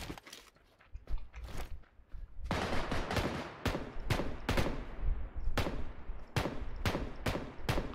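Gunfire in the shooter game PUBG Lite: bursts of rapid automatic shots and sharp single cracks, loud and close, with a dense rattling stretch in the middle and repeated evenly spaced shots toward the end.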